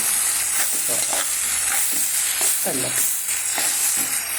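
Hot cooked rice stirred into a sizzling onion mixture in a pan, a steady frying hiss throughout with scraping stir strokes of the spoon repeating close by.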